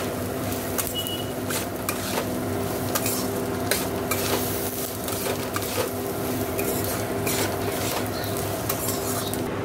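Dalia and moong dal being stirred in a cooking pot, with a continuous sizzle and bubbling plus repeated scraping strokes of a spoon against the pot at an even rhythm, close by.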